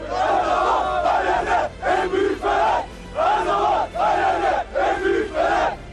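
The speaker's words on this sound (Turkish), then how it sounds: "Binlerce Fenerbahçeli'nin yaptığı tezahüratlar onlarca metre uzaklıkta duruşma salonunun içinden duyuluyordu." Thousands of Fenerbahçe football fans chant loudly in rhythmic bursts with short pauses between phrases, a dense roar of many voices, heard from inside a courtroom dozens of metres away in Silivri.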